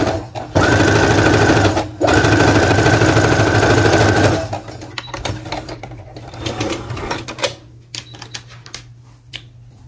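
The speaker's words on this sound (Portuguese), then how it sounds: "Eu simplesmente vou passar uma costura aqui, desvirar e rebater." A sewing machine stitching a seam on fabric for a vintage baby bodysuit, running in two fast steady bursts, then stopping for scattered handling clicks and rustles up close.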